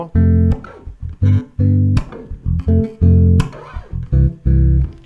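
A bass guitar plays a 1-4-5-4 chord progression as short, loud, plucked low phrases separated by brief gaps, close and dry with no voices.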